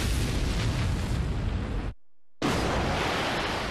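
A cartoon rocket blasting off into outer space roars as a loud, sustained burst of noise. It cuts to silence for about half a second, then the roar resumes at full strength.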